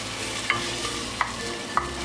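Goan fish curry with kokum and water is stirred in a pan, giving a soft steady simmering sizzle with three light clinks of the spoon against the pot.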